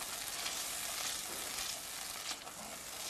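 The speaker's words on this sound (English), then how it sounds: "I'm going to give this a nice stir." Mixed vegetables with tomato paste sizzle steadily in a hot pan as they are stirred, a constant close frying hiss with no pauses and no talking.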